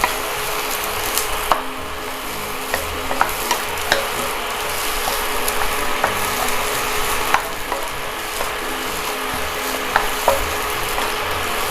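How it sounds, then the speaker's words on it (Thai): Onion stir-fried with garlic in a pan, a loud continuous sizzle with steady scraping stirs and occasional spatula clicks throughout, up close with no talking. "เราก็ผัดหัวหอมใหญ่สักครู่นะครับ"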